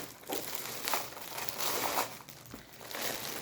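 Plastic packaging rustles and crinkles steadily and close up as a two-piece organizer is opened, with no talk.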